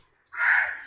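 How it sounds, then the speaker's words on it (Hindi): A crow caws outdoors, one harsh, drawn-out call arriving after a moment of quiet, fairly close and heard on its own. "आपको हमारा कौवा भी शायद बाहर सुनाई दे रहा है"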